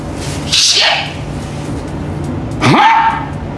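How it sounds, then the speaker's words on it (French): A dog lets out two sharp yelping barks about two seconds apart, close and loud, each with a rising whine-like tail, over a low background hum. "Chien."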